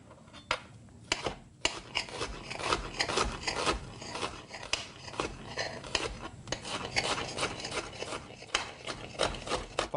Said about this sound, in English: fine dice the onion